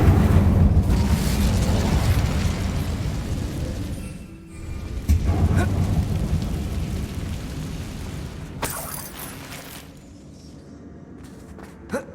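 An Incendio fire spell cast in Hogwarts Legacy, heard as a loud eruptive burst and rumble that swells and fades over several seconds, followed by quieter crackling and a few sharper pops.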